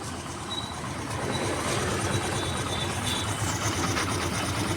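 A repaired scooter engine idles steadily after a kick start, a close, continuous broadband running drone that holds level throughout with no voices over it.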